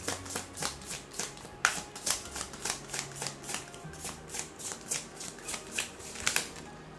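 A deck of oracle cards is shuffled close by in a steady rhythm of about three crisp riffles per second, each one a short papery flutter, with no other sound.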